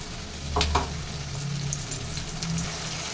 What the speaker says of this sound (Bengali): আর এই কুচনো পেঁয়াজটা দিয়ে দেবো। এটাকে ভেজে নেবো যতক্ষণ একটু কালারটা চেঞ্জ না হচ্ছে।